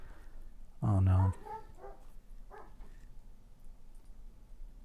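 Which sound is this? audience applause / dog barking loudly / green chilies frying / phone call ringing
dog barking loudly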